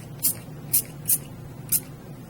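Four short hissing bursts of Alpine Ice Rose spray onto vellum paper flowers, each quick puff close by and evenly spaced, over a quiet room with a faint low hum.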